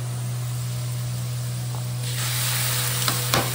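Spices hit a hot pan as prawn and pointed gourd cook. A low hum and faint hiss sit underneath, then a louder, brighter sizzle swells midway, with a few sharp clatters near the end.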